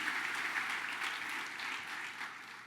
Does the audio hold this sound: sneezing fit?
no